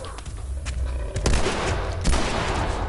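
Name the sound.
gunshots from the video game The Last of Us Part 2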